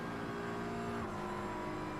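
A GT3 race car in a racing game, held on its rev limiter, makes a loud, steady, buzzing engine drone with a faint ripple of limiter stutter that lasts throughout, with no talk.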